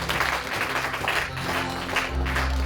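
A church congregation applauds and acclaims Jesus in steady, sustained clapping that fills the room, with a continuous low hum underneath and no clear speech.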